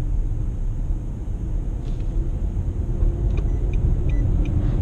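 A Nissan Murano SUV creeps slowly away from a standstill, giving a low, steady engine rumble close by with a few faint clicks above it; nobody speaks.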